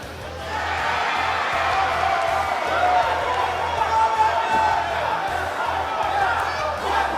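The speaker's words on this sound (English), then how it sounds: "the crowd here in Full Sail is showing their love" Crowd noise in the WWE 2K19 wrestling video game, an NXT arena at Full Sail: a steady wash of cheering and whoops under continuous commentary.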